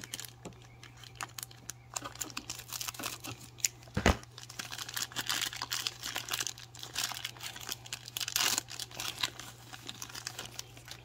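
Scissors cut open a heavy cardboard box with packaging inside. It sounds like quiet, intermittent crinkling, rustling and tearing, with one sharp snap near the middle and no voices.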